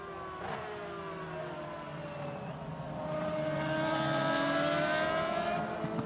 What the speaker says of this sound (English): our microphones attached to our cameras pick up the noise, I'm trying to duck out of it so that you can really enjoy the sound of these phenomenal cars